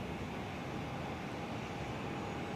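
Steady broadband roar of a Netlink airliner, flight 2909, approaching to land on runway 24 at Perth Airport, a constant distant engine drone held at even loudness throughout with no voices.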